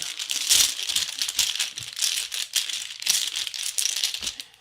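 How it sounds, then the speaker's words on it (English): Seikatsu koi pond board-game tokens rattle and clatter as they are shaken inside a bag, a close, busy jangle in uneven bursts with no talking. "place the 4 koi pond tokens into the bag, shuffle it up"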